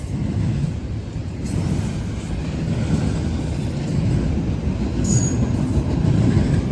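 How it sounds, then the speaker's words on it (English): A short Norfolk Southern freight train rolls by at about 45 mph through Gaffney, South Carolina, at night, with a close, steady rumble of wheels, rhythmic clatter over the rail joints and a brief high squeal. "Another short train."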